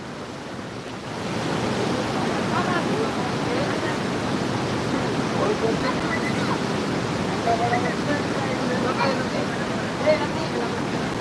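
The Ganges rushes steadily between hills beneath a bridge, a broad, constant roar of flowing water that stays even from start to finish, with faint voices in the background.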